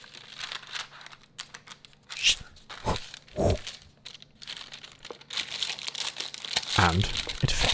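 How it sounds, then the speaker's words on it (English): Parchment paper is cut to size and handled while fudge is made in a kitchen, giving scattered crinkling, tearing and crunching rustles of varying loudness across the clip, close by and without talk. "He cuts the paper to size."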